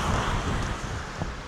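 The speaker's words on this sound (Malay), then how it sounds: "angin sejuk." Cold wind blowing steadily during snowfall in Utsunomiya, Japan, a constant rushing roar with heavy low buffeting against the microphone, loud and unbroken throughout.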